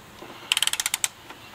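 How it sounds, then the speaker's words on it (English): A SUZUME 3/8-inch drive digital torque wrench ratchet gives a quick run of about nine crisp, close metallic clicks in steady rhythm, followed by one last click after a short gap, against a quiet background. "You hear that click in your ratchet?"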